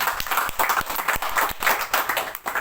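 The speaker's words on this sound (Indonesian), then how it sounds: "Beri tepuk tangan yang berbuat Tuhan." A church congregation claps during worship, a brisk burst of many hands with sharp individual claps standing out, close and lively for a few seconds.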